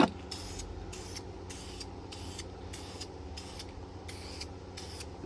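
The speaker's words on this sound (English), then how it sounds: "Keep in mind it's spray paint" Short repeated bursts of spray paint hissing from an aerosol can, about ten even sprays in a steady rhythm over a low background hum.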